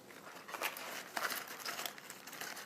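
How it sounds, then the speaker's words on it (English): A knife cutting off the bottom of a large head of romaine lettuce, making faint crisp crunching and crinkling sounds in quick irregular bursts, close by in a quiet kitchen while the lettuce is prepared for a juicer. "I'll cut off the bottom."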